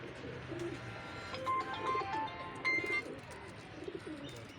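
Tyson pigeons at a pigeon club give soft, repeated coos with a few light chirps over a steady murmur of background noise, and no one speaks.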